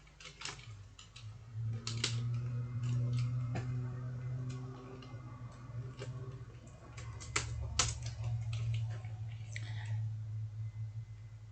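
Scattered keystrokes while entering code on a computer keyboard, sharp irregular clicks of moderate loudness over a steady low hum, with no voices.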